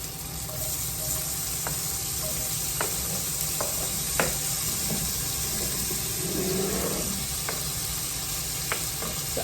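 Garlic sizzling in leftover bacon fat in a pan, a steady close hiss of frying with occasional sharp pops and stirring scrapes, continuous and moderately loud, no voices.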